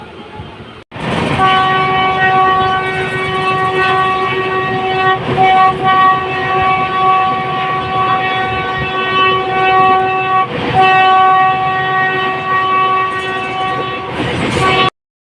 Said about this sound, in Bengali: অনেকক্ষণই হয়ে গেছে ট্রেনে রয়েছি আমরা